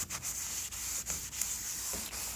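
An abrasive sponge wiping rust cleaner across a stainless steel appliance surface: soft, close, repeated rubbing strokes with a light scratchy texture, with no talking.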